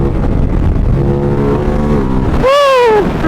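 Big supermoto motorcycle riding through corners, its engine loud and close with a steady droning note, then a rising-and-falling rev as the throttle is worked through a bend.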